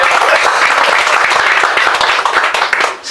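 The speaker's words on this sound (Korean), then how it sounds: "한 박수로 좀 맞이해주세요." Dense, loud applause from an audience welcoming a speaker at an indoor lecture gathering, steady clapping throughout that tapers slightly at the end.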